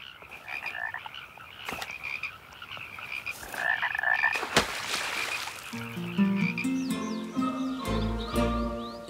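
Alpine frogs croak in a chorus during the breeding season in the Julian Alps, a dense run of rapid, rasping calls that builds and thickens toward the end, heard close and fairly loud with no voices.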